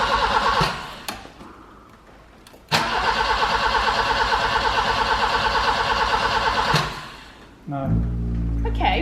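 A BMW 316 with a 1.8 engine cranks repeatedly, a long rhythmic churning starter whir that stops and restarts without the engine catching, close and loud with a few clicks in between.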